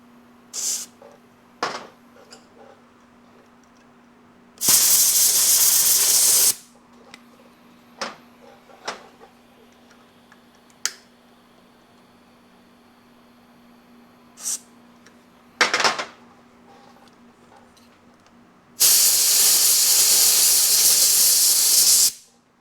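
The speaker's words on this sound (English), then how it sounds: "we'll just take a little contact cleaner here" Contact cleaner sprays from an aerosol can onto new ignition points of a 1968 Yamaha YAS1C 125 twin, two loud sustained hissing bursts of a couple of seconds each, separated by quiet clicks and small handling taps.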